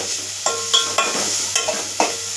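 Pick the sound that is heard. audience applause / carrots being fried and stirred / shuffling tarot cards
carrots being fried and stirred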